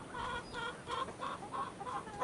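Several Rhode Island Red chickens cluck in a quick, repeated rhythm, soft and nearby, with no talking.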